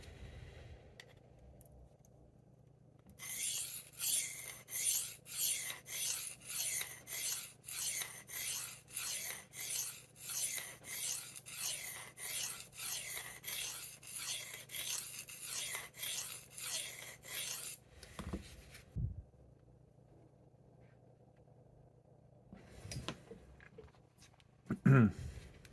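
A knife blade is stroked across a Spyderco pocket sharpening stone in a fast, even run of close raspy strokes for about fifteen seconds, then stops, with a few faint scrapes and handling noises near the end.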